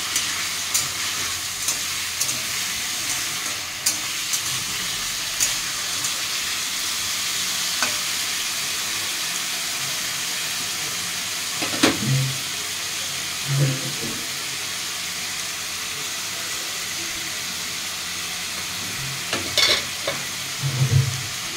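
Potatoes, onion and chillies fry steadily in a pan, with a continuous sizzle and occasional scraping stirs from a spoon; a few clinks sound near the end.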